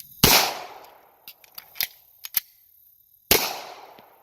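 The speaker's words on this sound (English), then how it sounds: "I'm going to come up from the holster, take a shot, and then go to reload." A Beretta M9A3 9mm pistol is drawn from a holster and fired, then reloaded. Two sharp, loud shots ring out, one near the start and one near the end, with clicks and clatter of handling in between.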